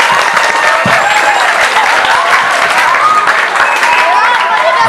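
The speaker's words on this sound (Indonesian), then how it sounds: "tepuk tangan yang meriah untuk kita semuanya." An audience of students at a school Maulid Nabi celebration gives loud, sustained applause, a dense continuous clatter of many hands close to the recording.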